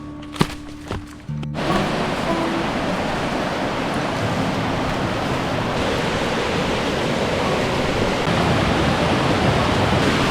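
A backcountry waterfall in a snowy ravine in spring, a loud, steady broadband rush of falling water that swells in after a few brief knocks and continues unbroken, close and enveloping.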